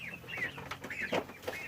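Chickens cluck in a few short, close bursts during a brief moment of play, the calls fairly quiet with no talking over them.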